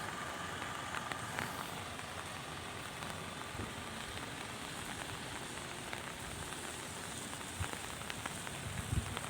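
Heavy rain falls in Ernakulam as a steady, even hiss of drops striking surfaces, fairly soft and continuous, with no voices.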